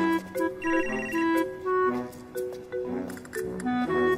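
A phone rings with a bright melodic ringtone, a sequence of clear tonal notes repeating loud and close for several seconds, with no talk over it.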